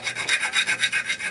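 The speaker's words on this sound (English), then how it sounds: "I'm just going to file it away all around until all the burrs are gone" A hand file rasps around the inside of a coin ring to remove burrs, in quick, even back-and-forth strokes that are close and steady, with no talking.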